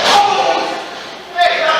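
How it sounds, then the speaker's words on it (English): A wrestler is body-slammed onto the ring mat at a 3RW wrestling show, a heavy thud landing about midway through, with a crowd roaring and a commentator talking over it. "Big slam by the Big Deal."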